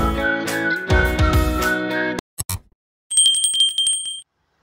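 A subscribe-reminder bell sound effect follows a musical sting and a few short clicks, ending in a bright, rapid metallic bicycle-bell ring, loud and close.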